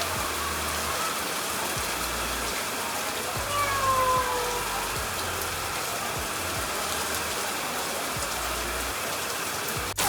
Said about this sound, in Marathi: तर बघा एवढा पाऊस चालू आहे